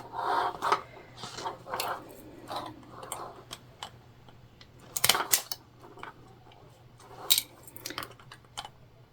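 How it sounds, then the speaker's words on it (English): Several sharp metallic clicks and snaps from a stapler fixing staples around the curved fabric edges of a small sewing-project bag, irregular and close in a quiet room, no talking. "putting some staples in around the curves, which again will ensure that there's no movement when we sew"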